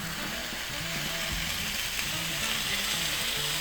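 Smash burger patty searing on a hot griddle, giving a steady, close sizzle throughout with faint clicking mechanical ticks mixed in and no talking.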